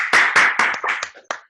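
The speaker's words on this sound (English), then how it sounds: "Everyone should unmute and clap." A few online meeting participants clap over their connections, a handful of sharp, separate, close claps coming in an uneven rhythm that thins out and stops.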